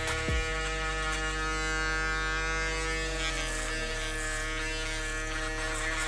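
A close electric shaver buzzes steadily and loudly through a barber's mid fade haircut, a constant motor hum with strong low harmonics, briefly shifting near the start.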